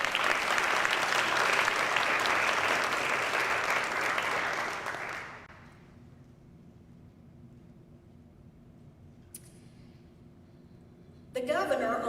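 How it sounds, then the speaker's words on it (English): Sustained applause for Robin Dawson at a 2021 School of Education pinning ceremony fills the first five seconds, loud and dense, then fades to a quiet room with a few faint knocks and a brief rustle at the end. "we'll give her a round of applause."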